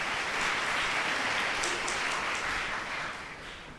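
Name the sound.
audience applause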